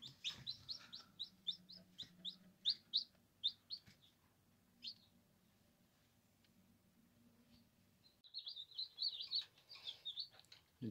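Newly hatched chicks sit under a lamp and chirp in quick, bright peeps, a busy cluster at the start, a quiet lull, then another burst near the end, over a low hum.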